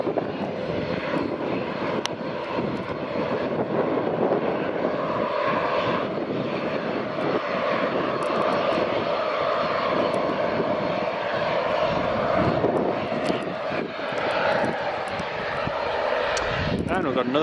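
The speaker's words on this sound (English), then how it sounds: "we've got another plane that's just turned onto the final approach there" An airplane on final approach to Edinburgh Airport, runway 24, drones steadily as a broad, sustained engine roar for the whole stretch. A voice talks over it throughout.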